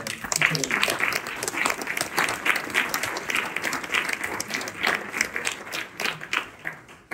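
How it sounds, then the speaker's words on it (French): An audience at a New Year's address for 2024 applauds the volunteers of local organisations, a lively, uneven burst of clapping from a moderately sized crowd that fades out at the end. "je pense qu'on peut applaudir leurs bénévoles"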